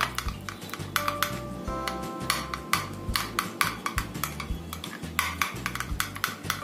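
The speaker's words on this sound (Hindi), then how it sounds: "इसको अच्छे से चम्मच से थोड़ा सा मिक्स कर लेंगे" Spoon mixing yogurt in a bowl for kesar pista shrikhand, giving repeated quick clinks and scrapes against the bowl in an uneven rhythm, close and clear with no talking.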